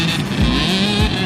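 A dirt bike engine revving hard at a motocross camp, a loud close buzzing drone that rises and dips twice as the throttle is worked, continuous over the short stretch with no talk.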